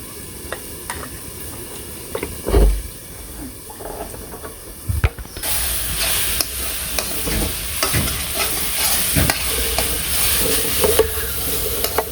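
Leafy greens fry and get stirred in a pan in a village kitchen, with scraping spoon strokes and a steady sizzle that grows louder and fuller partway through.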